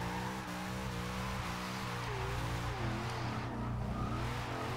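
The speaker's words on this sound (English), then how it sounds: "I'm so bad at drifting in first person." Chevrolet Monte Carlo SS drifting in Forza Horizon 2, its engine droning steadily while the pitch sweeps up and down through slides, with continuous tire squeal mixed in throughout.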